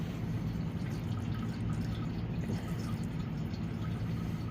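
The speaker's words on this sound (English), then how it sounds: "this is more than adequate fuel flow for a machine this small" Fuel flows steadily from a separate line run off a 250 cc ATV, a continuous close trickling and splashing stream with no pauses.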